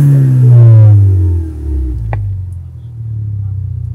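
A car engine runs steadily as the vehicle drives, with a deep, even low rumble close by and one brief click partway through.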